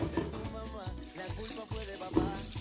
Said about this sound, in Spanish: Y le boto el agua